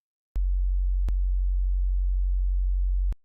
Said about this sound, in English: It's just a constant 46 hertz sine wave.